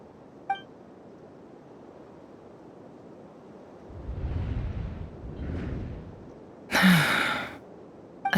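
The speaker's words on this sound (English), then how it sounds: "I heard Yehuda gasp," A female character named Yehuda gasps in the video game Genshin Impact: one short, sharp breathy intake amid faint soft game ambience, alone with no talk.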